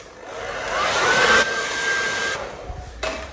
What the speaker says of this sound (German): Hier ist jetzt die Herausforderung, nicht zu heiß zu föhnen, weil da drunter sitzt ja auch noch eine Folie.